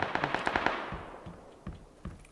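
Video game gunfire: a rapid burst of about six close, sharp shots followed by a few spaced single shots, punchy and loud against a quiet background.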